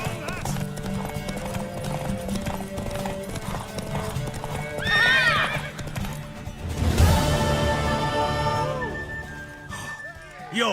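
Horse hooves clip-clop steadily in The Witcher 3, then a horse neighs loudly and a second whinny follows near the end. Game music and voices carry on underneath.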